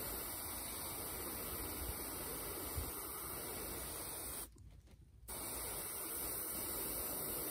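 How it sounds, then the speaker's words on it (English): An airbrush sprays red paint onto a handmade popper fishing lure, a steady close hiss that cuts out for a brief moment partway through, then resumes just as before. "let's see if we can do this with the airbrush"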